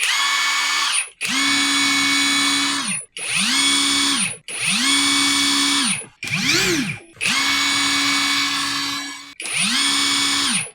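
A cordless impact wrench motor spins up repeatedly in short bursts of several seconds each, a smooth high whir separated by brief pauses.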